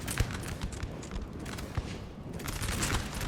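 Musket volleys crackle in Napoleon Total War during a Napoleonic-era battle, with ragged scattered shots and denser bursts over a constant noisy battlefield din, some sharp reports standing out close by.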